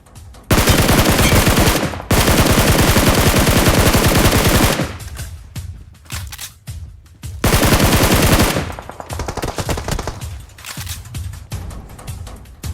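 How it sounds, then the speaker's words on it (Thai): Automatic gunfire in the PUBG Mobile video game, loud and close, with long sustained bursts broken by short gaps and a few scattered shots. "สียงปืนอยู่ข้างหน้านะครับ"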